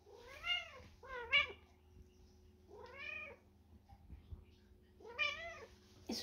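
Cat meowing at home after a vet visit, four separate plaintive meows spaced a second or so apart, close and clear against a quiet room with a faint hum.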